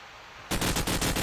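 Submachine gun fire in a competitive shooter match bursts in suddenly after a quiet moment, a loud, rapid rattle of shots in several quick clusters.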